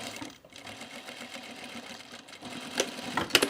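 A sewing machine stitching a bag with a pocket flap pushing against the presser foot, a steady close whir punctuated near the end by a few sharp clicks.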